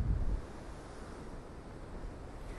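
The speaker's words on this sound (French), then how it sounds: "il y a du vent, il y a la mer" Strong coastal wind buffets the microphone while sea surf rolls steadily underneath, a continuous broadband roar that starts with a louder low gust and then settles into an even wash of wind and waves with no voices.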